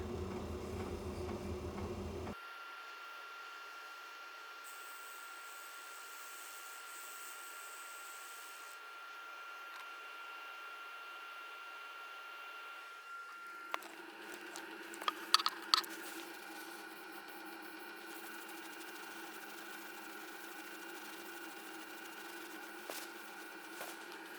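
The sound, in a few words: inertia sander on wooden bowl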